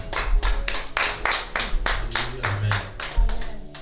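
A church congregation claps together in praise of the Lord, a dense run of roughly ten sharp, close hand claps at a steady rhythm, with voices speaking underneath.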